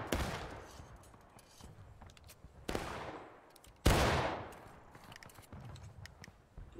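Gunfire at an outdoor training event, heard as several sharp, loud reports in separate bursts, each ringing out and fading, with scattered quieter shots in between and distant rattling under the reverberation.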